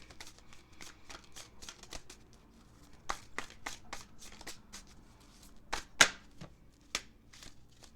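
Tarot cards being shuffled by hand in a quiet room, a steady run of soft riffling flutters with a few sharper snaps and slaps as the deck is squared.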